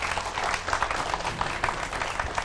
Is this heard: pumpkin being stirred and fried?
no